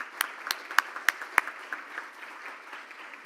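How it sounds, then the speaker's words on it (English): A small group applauds at a Rotary Club meeting, a handful of sharp, distinct claps early on, then thinning into softer scattered clapping in a quiet room. "If you would, please give them your applause"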